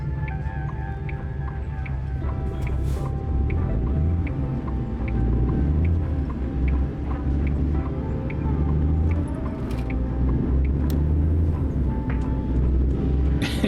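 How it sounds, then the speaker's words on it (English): A truck engine in American Truck Simulator drones low and steady throughout, with a continuous rumbling hum and faint clicks over it at a moderate, even level. "The truck noise is what gets me sleepy when I play the game."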